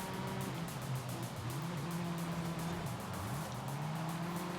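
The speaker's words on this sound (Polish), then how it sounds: "Znowu tutaj na tym ostrym zakręcie na wierzchołku dociśniemy gaz i będziemy wyprzedzać." In Forza Horizon 5, a race car powers through a sharp corner under throttle, its engine droning and shifting pitch while tires squeal faintly, a steady continuous roar with no talk.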